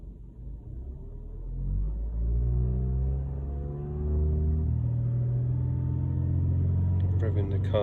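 A Vauxhall Corsa D with a P0171 lean fuel trim fault runs near tick over, its engine hum droning low before the pitch gradually climbs, close and steady.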